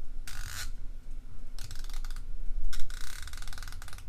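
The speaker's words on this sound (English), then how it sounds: "Then you got the ratcheting mechanism here." The ratcheting mechanism of an Icon 1/2 inch torque wrench is worked by hand in three short bursts of quick, close, crisp clicking, separated by quieter pauses.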